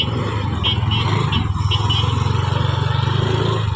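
A motorcycle engine runs close by with a steady loud drone and a continuous rumble, while traffic hums around it.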